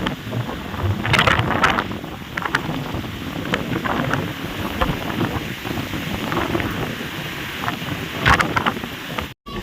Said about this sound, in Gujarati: એટલો બધો પવન આવે છે